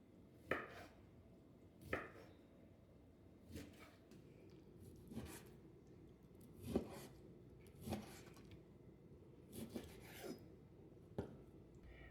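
A knife slicing through an air-fryer steak cooked with rosemary and garlic butter makes a quiet, close series of about eight crisp cuts, spaced roughly a second apart.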